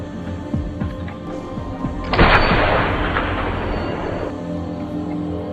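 A single heavy sniper rifle gunshot booms sharply and rolls off into a long, fading rumble, with quieter ambient noise before it.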